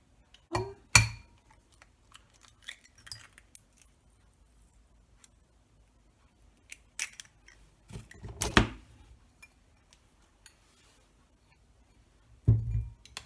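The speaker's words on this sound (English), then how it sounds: "crack each egg into a separate bowl to check that it's good before you add it to your mixture" Eggs are cracked one at a time into a separate bowl, giving a few sharp, quiet taps and clinks spaced out over a mostly silent stretch.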